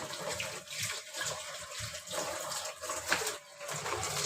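A banana leaf is washed under a running tap, a continuous close splashing rush of water with uneven surges as the leaf is moved and rubbed in the stream.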